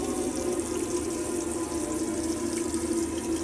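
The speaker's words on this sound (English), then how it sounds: "I can see that we've got a good solid, nice steady stream of water coming through on the hot side" Hot water tap running in a Burstner Ixeo 740 motorhome, a steady, continuous stream hissing and splashing into the sink at close range throughout, no talking.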